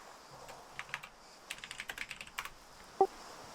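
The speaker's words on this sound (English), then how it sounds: "I'm typing in the company chat" Computer keyboard typing in a chat during an online game session: quiet, close key clicks in short bursts and a quick run of taps, with one sharper click near the end and no talk.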